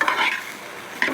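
Leftover chickpeas, cooked with ginger, garlic, salt, curry leaves and cumin, are reheated in a pan, with a brief soft sizzle and two scraping stirs of a spoon, close and quiet.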